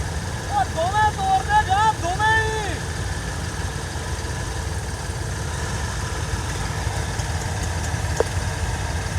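A JCB excavator engine rumbles steadily at close range while hauling two stuck tractors out by a tightened chain during soil work at Dera Baba Nanak; brief raised voices cut in early over the constant drone.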